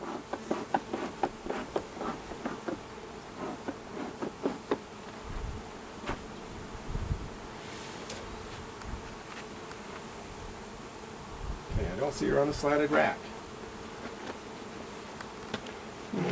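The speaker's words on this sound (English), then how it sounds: "They are buzzing now." Honeybees buzz steadily around an opened hive while a queen excluder and slatted rack are handled, a dense insect drone with a louder swell late on, and a person talks over it briefly.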